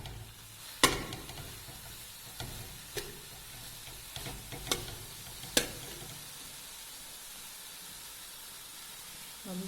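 Grated carrot for gajar ka halwa frying in a pan, a constant low sizzle and hiss punctuated by several sharp spatula clacks against the pan at irregular intervals.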